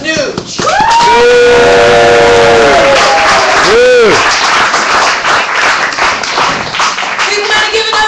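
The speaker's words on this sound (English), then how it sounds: "We want to give another round of applause and thank Rev Nuge" Crowd at an Occupy gathering applauds and cheers, with loud whoops and shouts riding over steady clapping throughout.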